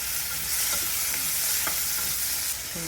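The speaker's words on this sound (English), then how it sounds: "So we'll just saute it out and we'll add salt." Onions and tomato sautéing in a pan, a steady close sizzle with repeated scraping and stirring strokes across the surface, no voices.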